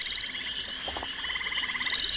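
A frog croaks in rapid pulsed trains, the rhythmic calls repeating steadily against a faint natural background, fairly close and clear with no one talking.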